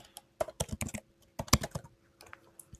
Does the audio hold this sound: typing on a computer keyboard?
yes